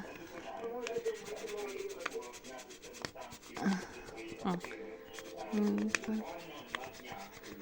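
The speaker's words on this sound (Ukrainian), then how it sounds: "І зараз ми її спробуємо затерти." Eraser rubbing back and forth over a gel-ink letter on paper, soft scrubbing strokes in short uneven bursts, close and quiet, with voices talking over it.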